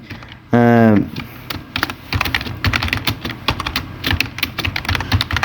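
Rapid clicking keystrokes on a computer keyboard run through most of the stretch, close and steady, following a brief voice at the start while a Microsoft Word page layout is being worked on.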